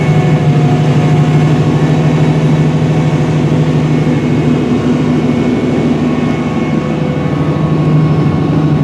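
A large Challenger tractor engine drones steadily and loudly up close while planting corn in a field, a constant low hum with a faint whine on top, unchanging throughout.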